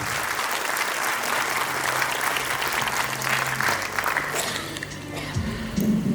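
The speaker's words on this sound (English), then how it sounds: "Let's have a very, very good round of applause for all of you." A large crowd applauds continuously at a university event speech, a dense steady wash of clapping that carries on throughout.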